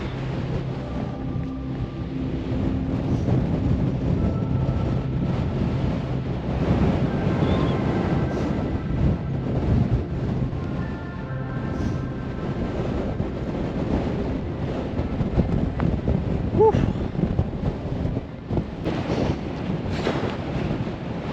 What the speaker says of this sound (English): Wind's gusting 30 miles an hour